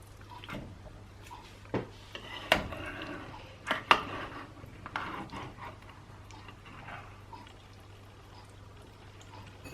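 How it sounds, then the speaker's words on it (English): A dish of aubergine parmigiana is set into a home oven: a few sharp knocks and clunks of the dish and door, with quiet pauses between them. "let me pop it in the oven"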